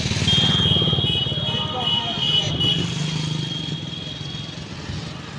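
A motorcycle coming in on the wrong side of a busy road, its engine droning steadily close by amid street noise, with someone talking over it throughout.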